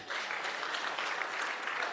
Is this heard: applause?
yes